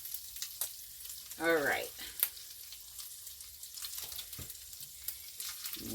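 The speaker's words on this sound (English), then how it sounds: "We're getting our home canned ground beef browned up." Home-canned ground beef browning in a frying pan gives a low, steady sizzle throughout, with a brief spoken word early on and a few soft clinks of a utensil.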